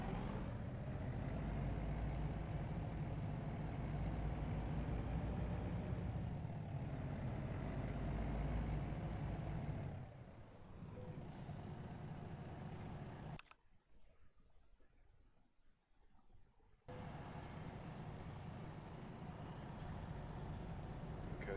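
A big rig's engine in American Truck Simulator drones steadily and close, dips in level around the shift, cuts out briefly, then returns to its constant low rumble.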